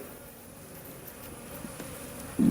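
Honey bees hum around an opened hive box while honey-filled comb is cut out during harvest. A steady low drone holds throughout, with a louder swell of buzzing near the end.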